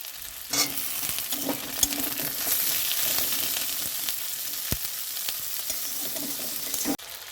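Tomatoes hit onions already frying in oil for a sole fish curry, giving a steady, close sizzle with occasional stirring scrapes and clinks throughout, no voices.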